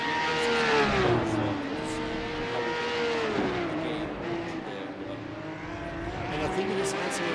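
Grand Prix race cars lap the Nürburgring about 20 meters away, their engines rising and falling in pitch as they pass, loud and continuous while people talk nearby.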